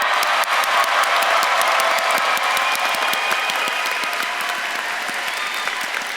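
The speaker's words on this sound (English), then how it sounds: "I would like to give another hand of applause for all of our M.S.W." A commencement ceremony crowd for a 2024 graduating class of social work master's students applauds in a broad, sustained wash of clapping, steady and slowly easing, with faint cheering mixed in.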